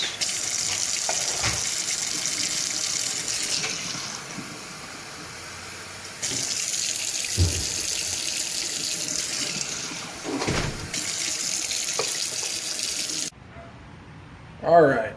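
Kitchen tap water runs into a measuring cup for 2.5 cups, a steady close hiss that stops and restarts several times before cutting off at the end.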